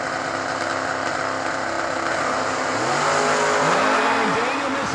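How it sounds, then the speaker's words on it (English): A Camaro drag race car launches down the strip at a New Year Nationals drag racing event: a loud, sustained engine roar climbing through its revs with sweeping pitch changes between gear shifts, close and continuous. "Ryan Henry in the Camaro right side, 560 to dial in."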